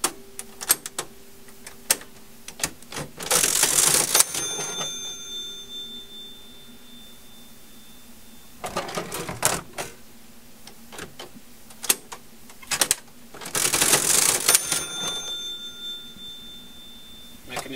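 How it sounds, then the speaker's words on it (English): An antique National Cash Register from around 1900 operates in sharp mechanical clicks and ticks, with two loud bursts of ringing bell and clattering drawer mechanism, close and clear. "We have a National Cash Register circa 1900."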